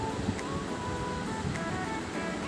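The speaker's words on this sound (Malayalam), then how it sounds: "ഇത് പൊട്ടട്ടെ നല്ലോണം കടുക്." Mustard seeds spatter in hot coconut oil in a pan, a dense, continuous crackling hiss with tiny pops scattered through it, close and steady.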